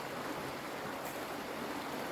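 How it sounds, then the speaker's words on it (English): Water poured into a shaving bowl for rinsing, a steady close splashing rush that holds at an even level throughout, with no talking. "I'm gonna put a little bit more water here in my bowl for rinsing"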